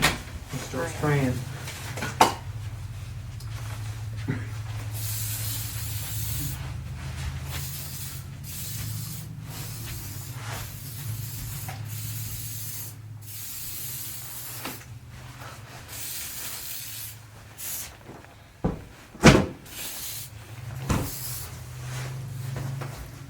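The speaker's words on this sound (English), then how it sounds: "Got the disinfectant spray." Repeated hissing bursts of an aerosol disinfectant spray in a hotel room, some long and some short, come with handling noises and occasional talk.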